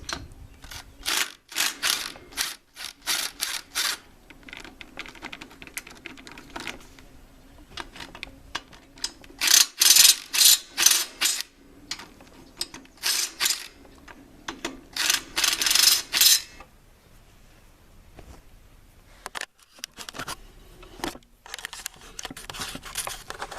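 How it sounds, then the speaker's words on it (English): A lawn tractor engine's valve cover comes off with bursts of ratchet clicking and small metallic clinks, intermittent and close, separated by quiet gaps. "Now I'll take off the valve cover, see what's underneath of there."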